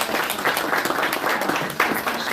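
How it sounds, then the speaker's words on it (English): Audience applause for panelists at a New York conference on carbon markets and Africa, a dense, steady wash of many hands clapping throughout. "Please, a round of applause for our panelists."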